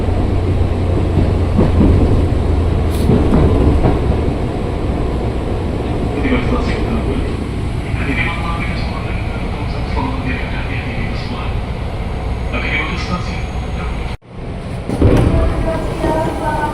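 A KRL commuter train pulls into Tambun station on the Cikarang line, a loud, close, continuous rumble of wheels and carriages with scattered squeals, dipping briefly near the end before surging again.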